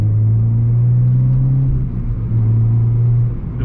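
Exhaust note of a Renault Clio 3 RS fitted with a Miltech half-line, heard as a steady, loud, low rumbling drone close by that dips slightly partway and toward the end.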